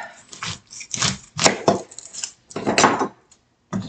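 A knife chops a sweet onion on a board in a series of uneven, close, crisp cuts and knocks with short pauses between them.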